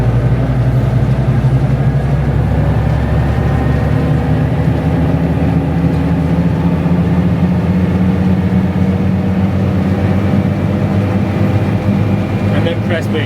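A tractor engine running butterfly mowers rumbles steadily and loudly up close, a continuous low drone throughout with talk over it.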